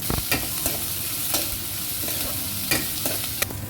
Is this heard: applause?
no